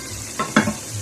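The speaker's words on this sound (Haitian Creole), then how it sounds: "Parce que moi, les pâtes de tomate là, bien frit." Tomato paste frying in a pan for a Haitian Creole dish, a soft sizzle with two brief stirring scrapes close by, no talking.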